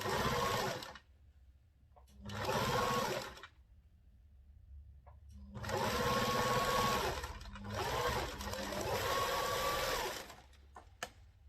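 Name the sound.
sewing machine stitching blouse panels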